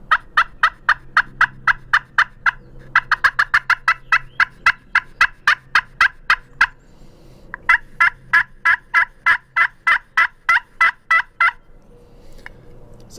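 A deeper-toned slate turkey call scraped with a striker gives out rapid runs of sharp, close yelping notes in three bursts separated by short pauses.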